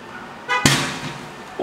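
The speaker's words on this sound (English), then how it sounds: "Man have fireworks in his car?" Fireworks going off inside a car engulfed in flames in an apartment complex parking area: a short crackle followed by one sharp nearby bang that fades over about a second.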